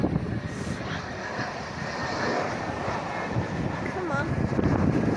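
A Bombardier airliner lands in gusty, turbulent conditions at Dublin Airport, its engine roar a broad, steady rumble mixed with heavy wind buffeting on the microphone.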